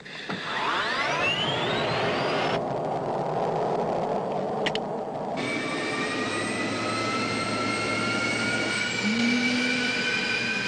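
An F-16C jet engine spins up from its jet fuel starter, a loud steady roar with rising turbine whine tones climbing toward idle, broadband rushing noise throughout, and no talking.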